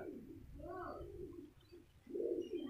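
Pigeons cooing in a coop being set up for the rainy season, a few soft, low, rounded coos close by in a quiet space, without other sounds.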